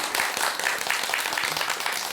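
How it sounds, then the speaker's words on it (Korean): An audience at a Buddhist monk's dharma talk applauds in a dense, steady wash of clapping that fills the whole stretch at an even level. "박수가 너무 가식적인 것 같아요"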